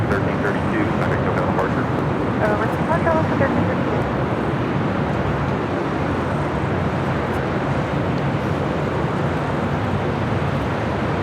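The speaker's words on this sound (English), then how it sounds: "we got that Orca special delivery with Alaska now taking off" An Alaska Airlines jet in the Orca special livery takes off at LAX, its engine roar a loud, continuous broadband rumble that holds steady throughout, with a voice talking over it.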